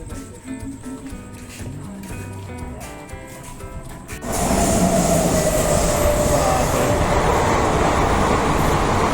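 A fast train roars into Annanur station in Tamil Nadu: quiet platform ambience gives way to a sudden, loud, sustained rush of wheels and carriages with a thin metallic squeal running through it.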